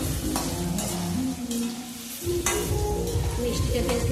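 Eggplant slices frying in a pan give a continuous sizzle, broken by a few scraping stirs and a brief lull midway; no one speaks.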